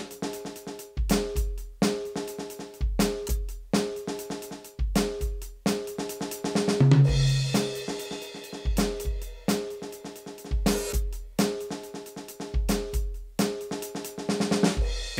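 A Donner BackBeat electronic drum kit on its default kit plays a steady groove, with punchy kick and snare hits, cymbal accents, and a brief fill midway.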